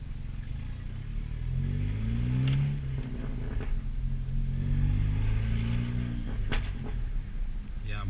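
A 10th Gen Si car engine with a catless downpipe rumbles and drones from inside the cabin, its pitch rising and falling as it revs, with occasional sharp pops.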